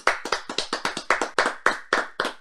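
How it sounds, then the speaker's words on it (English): Hands clapping for guest Colin James, about a dozen sharp, separate claps in a quick, slightly uneven rhythm, close and clear with no voices over them. "I just want to give you a round of applause because you deserve it"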